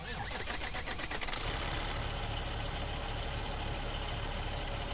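A Kenworth W900 truck engine in American Truck Simulator cranks with a fast stuttering starter rhythm, then catches and settles into a steady rumbling idle, heard from outside the cab, loud and alone.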